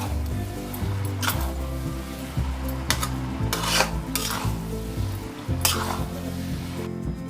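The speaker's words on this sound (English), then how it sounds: "And now with the pair of tongs, just go on mixing it." Schezwan noodles tossed and mixed in a pan with tongs, giving a steady run of stirring scrapes and soft clinks against the metal over a faint sizzle, close up with no talking.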